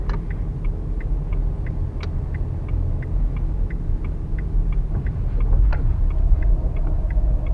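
Car engine idling and rumbling low during a driving lesson while parking in Bursa, steady and close, with a regular ticking like a turn signal clicking over the hum.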